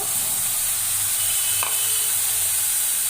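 Ground spice paste goes into a pan of frying prawns, and a loud, continuous hissing sizzle follows, with a faint clink of stirring midway and no voices.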